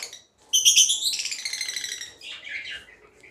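African lovebirds of mixed mutations chirp in a rapid, shrill burst of high twittering calls close by, starting abruptly after a brief quiet and continuing in busy chatter.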